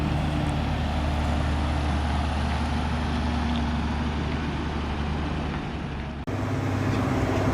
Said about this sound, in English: we're in an ex-army lorry